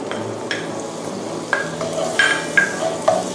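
Salted butter frying in a pan at the start of Thai garlic fried rice, a steady close sizzle with soft stirring scrapes and a few brief bright clinks.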